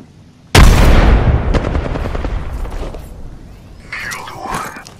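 A frag grenade explosion in a video game, with a sudden loud blast and a long decaying rumble, followed by faint distant gunshots and a voice.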